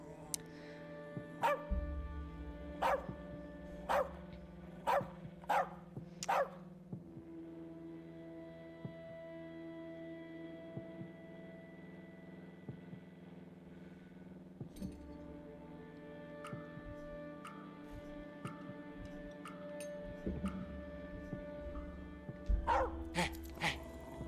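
A dog barks repeatedly in the As Dusk Falls video game, a run of sharp barks early on and another burst near the end, with game music and a light clink in between.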